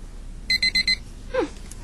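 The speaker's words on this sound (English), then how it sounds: "you just wait a couple seconds till it beeps" Four quick, evenly spaced high electronic beeps from an ear thermometer taking a child's temperature, sounding close and clear, followed by a brief soft rustle.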